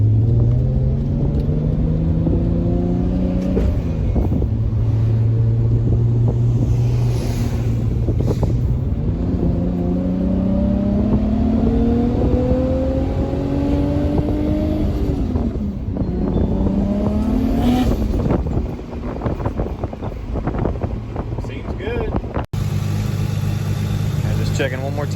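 Nissan GT-R engine with a Ross Performance idler installed, revving in first gear: repeated rising pitch sweeps as the RPM climbs and drops over a steady running rumble, close and loud, ending abruptly near the end.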